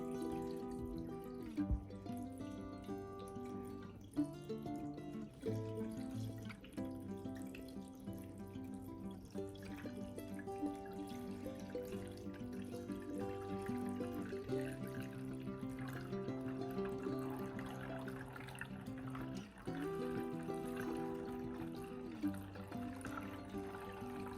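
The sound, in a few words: water being poured into container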